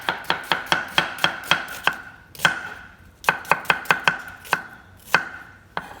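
A knife chops red onions on a cutting board in quick, sharp knocks, first in a rapid burst, then a short pause, then another run of close, crisp strikes.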